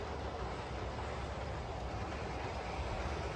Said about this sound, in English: How quiet that train is on the non-ballast sections